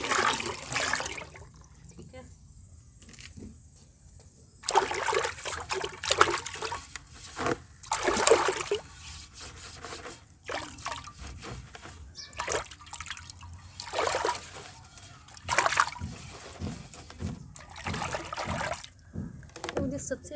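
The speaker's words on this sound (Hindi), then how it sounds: "हम ना क्ले पॉट को वॉश कर लेते हैं" A clay pot being washed with water, heard as intermittent splashing, trickling and pouring in bursts with quieter gaps between, fairly close, while a person talks over parts of it.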